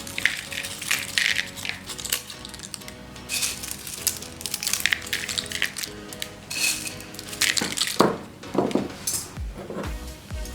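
Crisp papdi for dahi papdi chaat clatters and crunches into a bowl in repeated bursts of dry cracking and tapping, close and fairly clear, with no voices.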